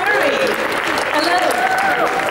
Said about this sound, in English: once again, please, a big applause.